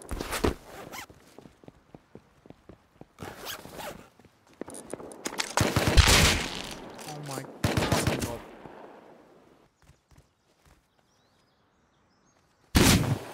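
AK rifle fire in the Rust video game comes in several bursts of rapid, crackling shots, loud and close, separated by quieter stretches and ending on one final burst.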